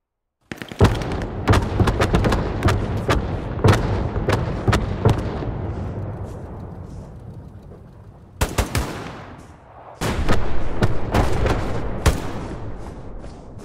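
Battlefield combat in Hell Let Loose: a tank fires and shells explode amid bursts of machine-gun fire, loud and close, with booming blasts decaying into rumbling tails.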